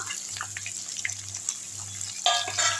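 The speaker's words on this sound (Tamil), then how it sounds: "இப்போ இதிலே பூண்டை போட்டுக்கலாம்" Garlic sautéing with curry leaves in hot oil in a pan, a soft steady sizzle with light scattered crackles and a brighter burst of spitting near the end.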